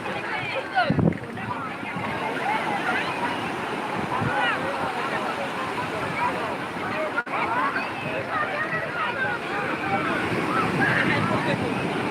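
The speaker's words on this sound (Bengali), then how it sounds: "দেখো ঢেউগুলো দেখো" Steady rushing surf of sea waves breaking close by on the beach at Puri, with wind noise and people chattering in the background throughout.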